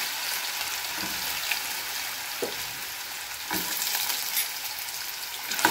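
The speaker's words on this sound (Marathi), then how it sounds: "बटाटा व्यवस्थित परतून घ्या" Potato slices fry in hot oil with whole cloves, giving a steady, fairly loud broadband sizzle that holds throughout, with a few soft knocks of stirring underneath and no talking.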